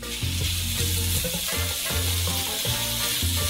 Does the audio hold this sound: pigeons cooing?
no